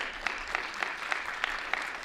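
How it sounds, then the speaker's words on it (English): Steady clapping from a lone person in the audience at a Richmond mayor's annual budget address, about eight evenly spaced claps over a couple of seconds, fairly distant with room noise behind. "That must have been Chris Frelke, I guess, who did that clapping."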